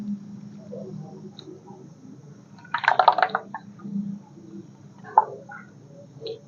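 Warm water poured bit by bit into flour batter for steamed shaj pitha, soft splashes and drips in a couple of short bursts over quiet background hum.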